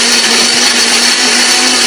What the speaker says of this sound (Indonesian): Bumbu ini akan kita haluskan ya.